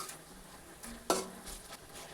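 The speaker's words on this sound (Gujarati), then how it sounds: "હવે આપણે બધી વસ્તુને સારી રીતે મિક્સ કરી દઈએ." Vegetables and sauces such as soy sauce and tomato ketchup being stirred together in a pan with a spatula, soft scraping strokes and one sharp clink against the pan over a faint sizzle.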